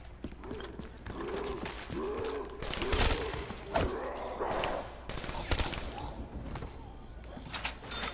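Rapid bursts of gunfire in a zombies video game, repeated shots fired at a radio alongside music and game effects, with short loud cracks spread across the clip.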